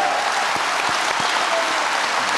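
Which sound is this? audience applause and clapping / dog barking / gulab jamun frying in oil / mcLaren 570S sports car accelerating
audience applause and clapping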